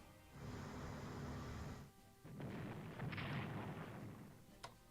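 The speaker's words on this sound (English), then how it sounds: "Use our naval gunfire here to bombard these guys." Naval guns bombard a city in the strategy game Strategic Command WWII, two rumbling blasts of bombardment followed by a faint sharp crack.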